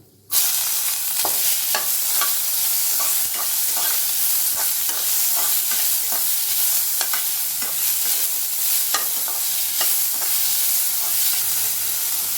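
Onion frying in oil with cinnamon and cashews for rava kichadi, a dense, loud, hissing sizzle that starts abruptly and runs steadily, with frequent light stirring clicks and no speech.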